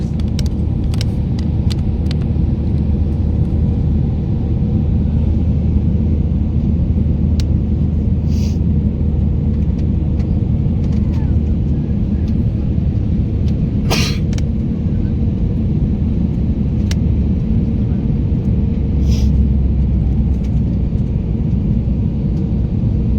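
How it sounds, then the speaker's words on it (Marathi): Steady, loud low rumble inside an airplane cabin shortly before landing, continuous engine and airflow drone with a few faint clicks and brief hissing bursts, no talking. "आता जस्ट प्लेन लँड होणार आहे."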